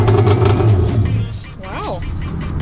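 A Yamaha boat engine runs with a low steady rumble and rising revs, loud and close, while a voice speaks briefly over it partway through.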